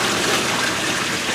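Water draining from the floor of a RZR side-by-side through a drain plate, a brief steady close rushing trickle at constant loudness, with no talking.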